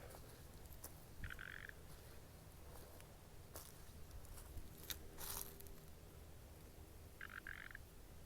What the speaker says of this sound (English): I hear a frog right here.